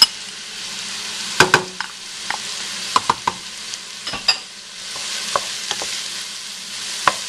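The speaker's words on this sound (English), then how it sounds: "So now I'm going to put the green onions and the portobello mushrooms in." Green onions and portobello mushrooms fry in a pot for harvest soup, a steady close sizzle punctuated by sharp clacks and scrapes of a utensil stirring against the pot.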